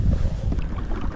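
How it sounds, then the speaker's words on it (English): Strong storm wind buffets a pedal kayak, an Old Town Sportsman 106 PDL, out on a lake, a steady loud rush of wind noise battering the microphone with water slapping underneath, no voices. "The wind's blowing me back so fast."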